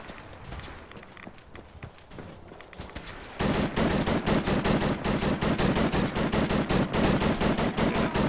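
Automatic rifle firing full auto in a modded Fallout 4: after a few quieter scattered shots and footsteps, a sustained rapid burst of loud, evenly spaced gunshots runs for about five seconds.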